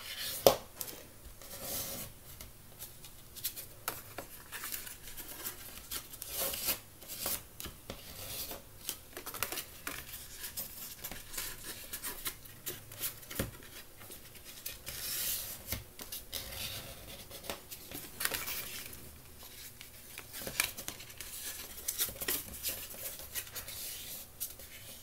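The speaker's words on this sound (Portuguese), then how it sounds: "E fazer um vinco também nas laterais dela. Assim, apertando para dentro e deixando ela marcadinha." Folded paper for a wedding favor is creased by hand, giving soft, intermittent rubbing and scraping sounds close up, quiet and irregular, with no talking.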